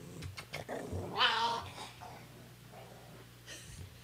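A pet dog growls low and breathy near the microphone, with a few short snorting bursts, faint and intermittent against a quiet room.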